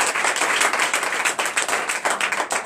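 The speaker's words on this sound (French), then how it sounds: "Donnez l'acclamation à Jésus" A church congregation at a night prayer service breaks into loud, sustained applause, dense clapping filling the room without talking.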